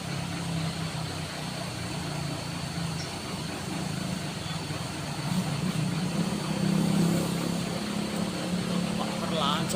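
An all-diesel Euro 4 truck labours up the Kerabuan hill, its steady low engine drone continuous and moderately distant, swelling louder in the latter half, with people talking over it.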